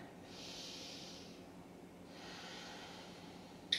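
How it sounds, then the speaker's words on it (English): Two slow, deep breaths during a beginner yoga sun salute, each a long airy inhale-exhale rush heard up close and alone, with a brief sharp noise at the very end. "Take a deep breath in and out here."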